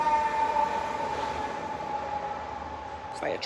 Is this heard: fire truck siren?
yes